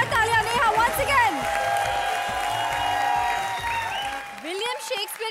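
Studio audience applause at a televised comedy show, a steady wash of clapping with scattered whoops and cheers, while bright music tones ring over the top and fade near the end.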